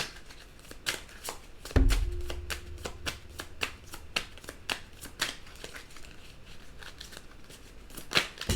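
A deck of tarot cards being shuffled by hand, rapid crisp riffling snaps and flicks repeating close to the mic, with a brief low thump partway through and a faint background hum.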